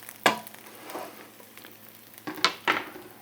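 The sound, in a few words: eggs frying in a pan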